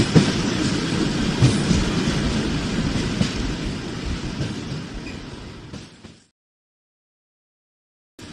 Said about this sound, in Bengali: স্টেশনে কিছুক্ষণ অপেক্ষা করার পর ট্রেনটি এলো।